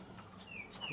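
Indian Ablook pigeons give soft, faint calls and brief whistly chirps over a steady low background murmur.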